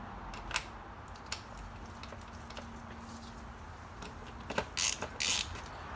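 Sparse, faint metallic clicks and light ratcheting as the six bolts go back into the air filter cover of a 2000–2005 Honda Civic, with a brief louder rattle toward the end.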